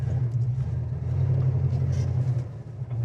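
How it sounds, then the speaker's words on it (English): A car passes on a road near a 1969 Mustang Fastback, a steady low engine rumble holding for a few seconds at moderate distance. "A car coming here."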